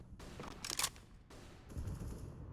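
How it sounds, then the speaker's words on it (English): Counter-Strike gunfire cracks out through smoke in a competitive match, with a tight burst of shots near the start followed by continued bursty fire, moderately loud and distant within the game's noise. "Shots through the smoke there, narrowly missing out."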